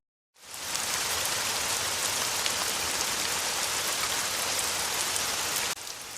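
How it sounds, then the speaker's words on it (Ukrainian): Steady, dense rain pours down on a surface, a constant hiss that starts abruptly and continues without pause. "Це дощ."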